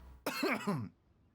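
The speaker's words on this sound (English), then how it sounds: "Oh, you're coughing." A short, throaty cough from a character in Genshin Impact, with a voiced, strained edge, heard once up close and lasting under a second before quiet returns.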